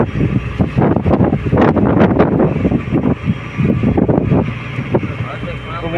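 Strong wind and choppy waves rock a fishing boat at sea, with loud gusty rushing and splashing throughout, mixed with faint voices.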